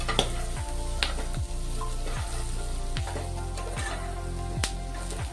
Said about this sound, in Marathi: थोडासा लसूण मी ह्याच्यासोबतच आता भाजून घेते